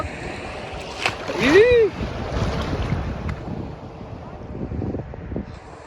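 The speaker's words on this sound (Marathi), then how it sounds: "अजून एक लाट आले, अजून एक लाट आले, अजून एक." Sea waves wash ashore at Malvan beach with a broad rushing surge and wind buffeting the microphone, while people talk and shout nearby.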